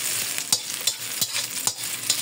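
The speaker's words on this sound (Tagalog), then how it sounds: "Gisa natin mabuti." Hokkaido mackerel cooking in a pan for sampalukan, a bright steady sizzle punctuated by rhythmic spatula strokes about every half second, close and without talk.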